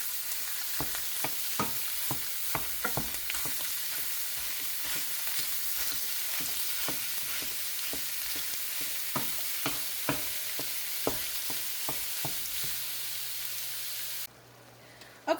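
Italian sausage and ground beef sizzle steadily in a pan as ground meat for a lasagna meat sauce, with a constant frying hiss broken by frequent sharp crackles and pops, close and alone until the sizzle drops away near the end.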